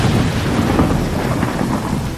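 A thunderstorm power effect in Marvel Puzzle Quest, a loud, continuous rumble of thunder and heavy rain filling the whole moment without a break.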